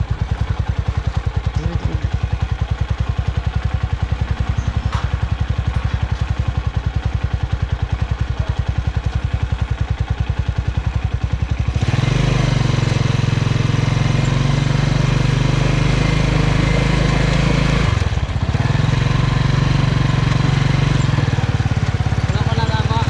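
A motorcycle engine starts up partway through and runs loudly close by with a steady rumble, following a stretch of quieter background and people talking at a farm.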